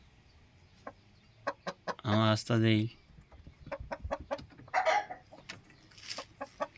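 A lone rooster kept by itself in a village coop, stressed from being alone, gives two loud, drawn-out clucking calls near the middle, with scattered clicks and a person talking around them.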